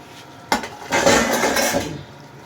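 A spoon scrapes and stirs through a pan of olive pickle with garlic and spices: one sharp knock, then a second or so of gritty scraping that fades out, with no voices.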